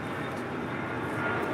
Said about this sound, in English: the Philippine 777s will be our last departure of the day